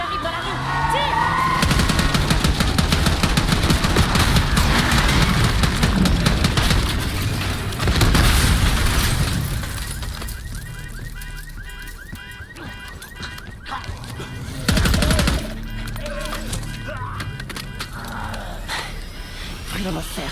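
Gunfire in the PC shooter Call of Duty Black Ops 6, loud sustained bursts and booming impacts that ease off into quieter shots with a sudden heavy blast later, while voices talk over the action.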